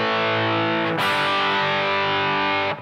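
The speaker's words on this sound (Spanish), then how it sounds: "Y aún así sigue siendo una cantidad de ganancia bastante decente, ¿no? Para una distorsión." An electric guitar played through a T-Rex Mean Machine distortion pedal set to low gain, a sustained saturated chord that is re-struck once partway through and rings loud and continuous to the end.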